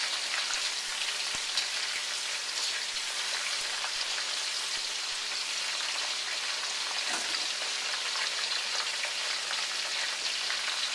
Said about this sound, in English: Very handy when you're frying things like tempura or these beans.